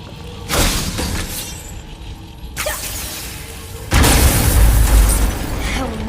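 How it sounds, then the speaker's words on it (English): In God of War, objects shatter under an axe with heavy crashing bursts, a crack at the start, another impact midway, and a louder booming smash near the end. "I will never get tired of shattering things with this."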